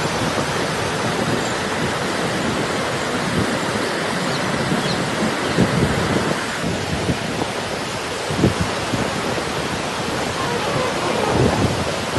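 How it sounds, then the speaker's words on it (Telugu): Torrential rain pours down in a city during a heavy thunderstorm, a loud, dense roar of rainfall with low rumbles of thunder rolling through it, steady throughout. "విపరీతంగా పడుతున్నటువంటి కుండపోత వర్షానికి"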